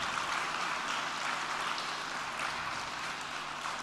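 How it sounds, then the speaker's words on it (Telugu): Church congregation clapping together after a testimony, a steady dense wash of applause at moderate distance that holds evenly throughout without pauses. "ఈ సాక్ష్యం కొరకు మరొకసారి చప్పట్లు కొట్టి దేవుని స్తుతిద్దాం"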